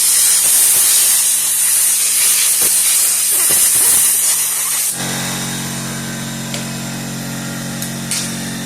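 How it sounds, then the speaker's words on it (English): Compressed air blasts loudly through a carburetor emulsion tube from a Kohler 23 hp small engine, a steady bright hiss lasting about five seconds before cutting off, leaving a low compressor hum and a few faint clicks behind. "We're going to blow some air through it."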